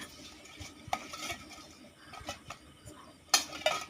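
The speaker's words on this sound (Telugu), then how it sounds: "ఇలా మెత్తగా ముద్ద అయ్యేంత వరకు మనం కలుపుకుంటూ ఉండాలి." Gulab jamun dough is mixed by hand until soft, producing quiet irregular squishing and rubbing with occasional sharp clinks against the bowl, close and faint, no voices.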